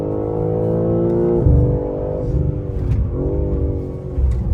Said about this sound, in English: Now we straighten the car, run the gas.